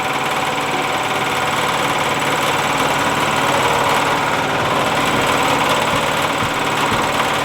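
A 6,000 psi air compressor runs aboard a boat underway, giving a loud, steady mechanical drone with a dense rattling hum that holds evenly throughout, with no voices.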